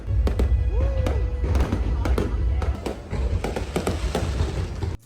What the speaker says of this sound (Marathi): त्यामध्ये फटाक्यांची जोरदार आतषबाजी होती.